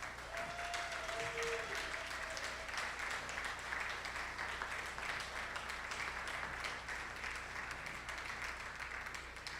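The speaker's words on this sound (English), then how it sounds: "It's a nice CSL round of applause welcome" A church congregation claps to welcome first-time visitors, a full, even roar of applause sustained for nearly ten seconds without letup.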